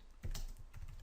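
Code being typed on a computer keyboard, a quick run of soft close key clicks in an uneven rhythm, alone and quiet.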